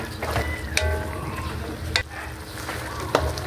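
Octopus adobo with tomatoes and onions sizzling in a pan while being stirred, with a few sharp utensil clanks against the pan over a steady frying hiss.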